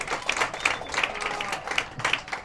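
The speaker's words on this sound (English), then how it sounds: "Hannah Mooney comes off to a round of applause" A round of applause from spectators at a girls' varsity soccer match as player Hannah Mooney leaves the field, scattered sharp claps fairly close and moderately loud against a quiet field.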